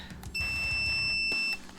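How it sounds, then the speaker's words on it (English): A multimeter's continuity-check beep sounds once, a single clear, steady electronic tone lasting a little over a second, close and alone. "it's an audible beep when it tells you that you have connection"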